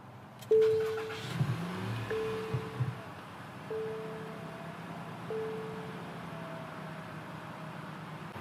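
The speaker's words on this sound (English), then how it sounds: "You just put your foot on the brake and push this button." A 2021-2023 Nissan Rogue SL started by push button: a chime, then the engine cranks and catches with a quick rise to a steady idle heard from inside the cabin, while a repeating electronic warning tone sounds at regular intervals.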